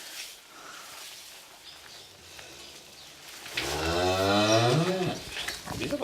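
A cow lets out a loud, drawn-out moo during a difficult calving, the calf lying turned on its side, rising near and strong after a few seconds of quiet background.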